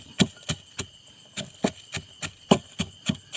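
Sharp, regular thuds strike one after another at a steady rhythm, close and fairly loud, as ingredients are pounded finely in a mortar, with no voices.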